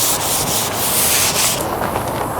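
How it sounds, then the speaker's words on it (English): Strip disc on a grinder abrading thick surface rust off metal before a patch panel weld, a steady close rasping hiss with brief surges, alone throughout. "Some of this rust will have to get ground off with a strip disc."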